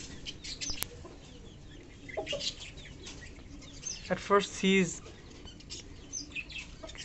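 Bantam chickens cluck and chirp in a garden while being fed insects dug from the soil, a few soft clucks early and a louder burst of calls midway, with background noise and a brief voice.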